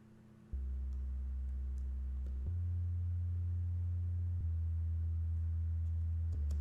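A pure, deep sine-wave synth sub bass tone holds steady, stepping down to a lower pitch a couple of times, with faint clicks as notes change.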